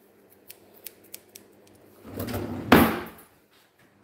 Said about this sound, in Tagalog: Ewan ko kung kailangan ko pa ng gunting.